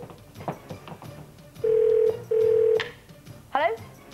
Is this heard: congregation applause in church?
no